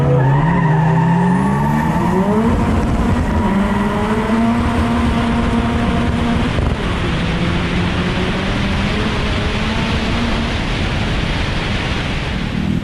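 Front-wheel-drive cars at a street drag racing event, engines roaring with skidding and tire squeal, loud and continuous close by, fading slightly toward the end.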